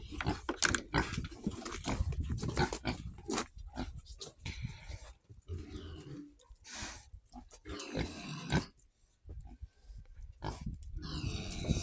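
Pigs grunting and snuffling close by in a village shed in irregular bursts, with scuffling and short squeals scattered through, no talking.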